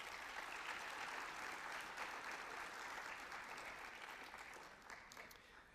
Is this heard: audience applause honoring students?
yes